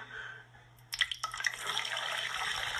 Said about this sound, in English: what kind of glass you gotta be pouring hot ass grease like that?